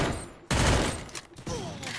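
A quick burst of gunfire in the Free Fire battle game, with a few sharp shots in rapid succession at modest volume, followed by quieter in-game sounds.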